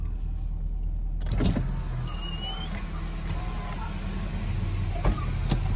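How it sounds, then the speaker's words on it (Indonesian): An electric power window on a Nissan Grand Livina whirs down over a steady low engine hum, with a few soft clicks and knocks along the way. "Kita turunkan kaca ya."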